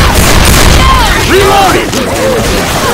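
Gunfire in the Left 4 Dead 2 zombie shooter, loud dense booms and bursts packed over a constant roar of game sound, with voices talking through the action.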